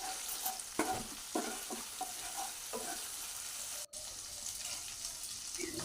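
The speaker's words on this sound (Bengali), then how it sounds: "এইভাবে আদাটা একটু নেড়ে ছেড়ে নিলাম।" Ginger paste with a splash of water being stirred in hot oil, a steady sizzle punctuated by several spatula scrapes early on, with a brief cut near the middle.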